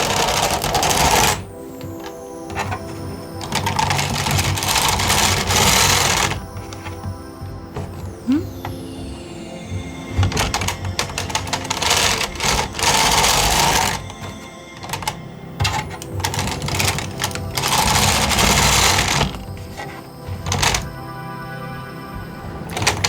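A 1990s knitting machine works Super Saver yarn, its carriage sliding in long rasping sweeps and clattering rhythmic passes broken by brief pauses and clicks.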